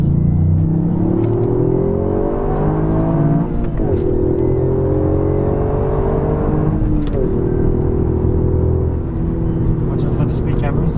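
Toyota GR Yaris pulling hard up a highway on-ramp, its engine note climbing steadily through the gears with brief dips at the shifts, loud and close inside the cabin with voices talking over it.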